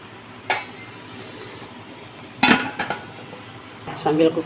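A metal lid clatters onto a rice steamer pot while rice cooks for Ambon-style coconut rice, giving a couple of sharp close clinks and a rattle at the end, with quiet kitchen background between.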